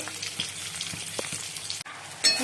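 Steady sizzling of eggs frying in a hot pan, continuous crackle with a few spatters and a brief dip before the hiss surges again.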